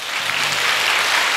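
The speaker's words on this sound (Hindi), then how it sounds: "ताली बजा के बताओ।" An audience at a career guidance event bursts into steady, dense applause that fills the whole moment, many hands clapping together at close range with no voices above it.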